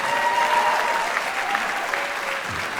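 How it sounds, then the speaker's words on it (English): Audience at a university jazz ensemble concert applauding a graduating trombonist, a full, close round of clapping that holds steady throughout and tapers slightly at the end. "give her a round of applause"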